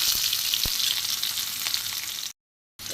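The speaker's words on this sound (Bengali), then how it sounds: "একটু ভাজা হোক রসুনটা" Crushed garlic sizzles in hot oil in a pan with a dried red chilli, a steady close crackling hiss that cuts out abruptly near the end.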